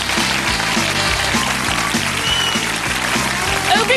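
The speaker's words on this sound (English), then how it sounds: "Don't clap when I'm trying to do the credits." A studio audience at a UK comedy panel show claps over the closing credits while piano chords play along in a bouncing rhythm, the clapping and music filling the whole stretch at a loud, steady level.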